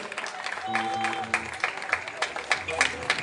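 An evangelical church congregation gives applause, heard as scattered, uneven claps with sharp individual hits and a voice briefly rising over them near the start.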